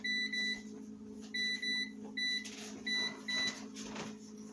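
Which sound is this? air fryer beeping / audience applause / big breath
air fryer beeping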